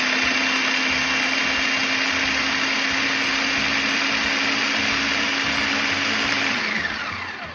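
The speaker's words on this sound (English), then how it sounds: "so I'm going to use my food processor" A food processor chopping tomatoes gives a loud, steady motorized whir with a constant hum throughout, winding down briefly at the end as it switches off.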